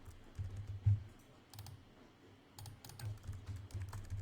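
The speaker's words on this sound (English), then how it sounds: "Is typing data into files." Computer keyboard typing in bursts of quick clicking keystrokes separated by short pauses, close and moderately quiet, with no speech.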